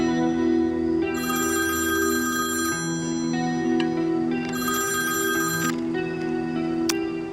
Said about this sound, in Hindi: तुम इसका फोन उठा क्यों नहीं रहे हो?